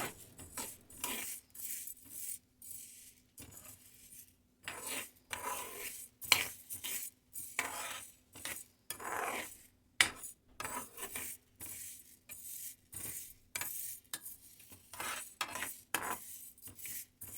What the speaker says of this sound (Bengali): মুগের ডাল শুকনো কড়াইতে ভেজে নিচ্ছি ফার্স্টে